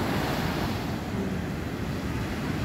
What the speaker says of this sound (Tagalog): Grabe talaga yung alon